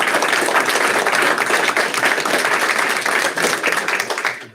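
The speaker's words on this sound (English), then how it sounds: "round of applause for those that aren't" A school board meeting audience gives a sustained round of applause, dense and steady clapping from many people in a room, fading out at the end.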